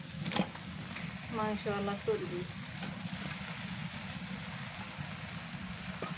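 Spice paste sizzles steadily in a pan over a clay stove in a village kitchen, where beef fat and meat are being cooked with it; a continuous even frying hiss runs throughout, and a voice briefly talks over it near the start.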